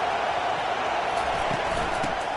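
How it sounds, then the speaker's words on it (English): Stadium crowd noise in the NCAA 25 college football video game, a steady, dense roar that holds at an even, loud level throughout as the crowd gets louder to help the defense. "It is getting loud as this crowd tries to help its defense."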